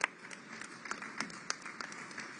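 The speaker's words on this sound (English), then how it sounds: "a round of claps again for all our panelists, please" An audience at a COP30 climate panel event claps for the panelists, giving light, scattered applause that is fairly faint and distant, with a few sharper individual claps standing out.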